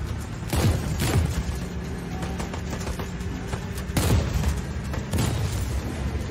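Explosions and gunfire from the video game Just Cause 4, with booming blasts around the start and middle over a continuous rumbling battle din.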